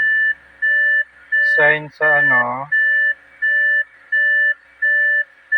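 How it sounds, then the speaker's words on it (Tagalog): A car's door-open warning repeats steady electronic beeps at a regular pace, about one every 0.7 seconds, close and loud, with a short burst of speech over it partway through. "Ito nag-alarm. Normal lang yan kasi naka-open yung pinto."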